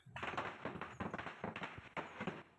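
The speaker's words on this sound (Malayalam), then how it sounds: "രാവിലെ തന്നെ കണിയൊക്കെ കണ്ടു, അവനൊക്കെ നന്നായി തൊഴുതി പടക്ക പൊട്ടിച്ച് ആഘോഷിച്ചു" Firecrackers bursting during a Vishu festival morning celebration, a rapid run of loud, sharp cracks in several bursts close by, crackling on without pause, with no talk over them.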